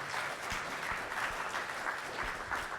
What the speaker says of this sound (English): So how about another final round of applause for Colin and his panel?